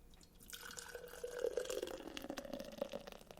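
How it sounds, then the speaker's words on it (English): Beer from LTD Brewing in Minnesota poured into a glass, a close, steady liquid stream rising in pitch as the glass fills, with faint splashing and no talk. "You poured without spilling."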